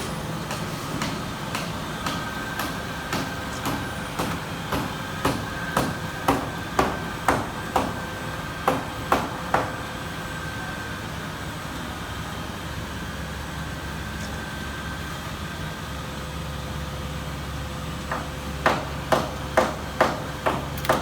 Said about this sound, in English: that's the general operation process of the machine without the heating procedure